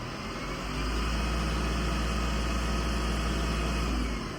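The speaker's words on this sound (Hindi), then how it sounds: "बहुत ही ज्यादा मधुर आवाज है, काफी रिफाइंड ऐसा इंजन है भारत बेंज का।" BharatBenz 1924 13.5-metre bus diesel engine revving, a dense, loud and steady drone that swells slightly and holds for several seconds, no talk over it.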